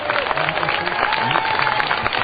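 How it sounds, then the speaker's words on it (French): Outdoor crowd applause and cheering at a paragliding landing event at the Coupe Icare festival, after a flying 2CV car lands; dense, steady clapping with crowd noise, under a commentator's voice. "On les applaudit bien fort."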